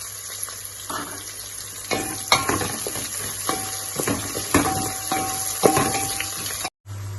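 Green chillies tossed into onions frying in a pan for prawn biryani, a steady close sizzle with spoon scrapes and stirring clatter throughout, a brief cutout near the end, no talking.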